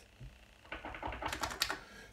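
Keys on a Commodore Amiga 1200 keyboard are typed after a quiet start, giving a quick run of crisp, close plastic clicks and clacks in irregular bursts.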